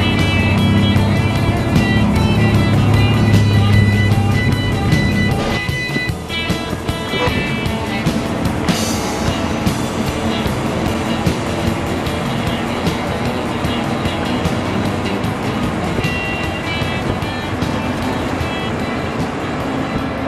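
A car accelerating hard across a desert race course in the BeamNG driving game, its engine roaring loud and steady with a rising whine and a sharp change in pitch partway through, no talking.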